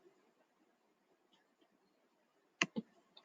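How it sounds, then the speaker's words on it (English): A computer mouse button clicks on a Windows backup screen, giving a quick double click and then a fainter third click, sharp and close over quiet room hiss. "Click refresh"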